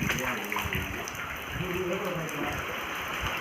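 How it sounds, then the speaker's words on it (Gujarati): Flood water rushes steadily across a road in a steady broadband wash, with people talking over it throughout. "અહીં પાણી આવી ગયું રસ્તામાં"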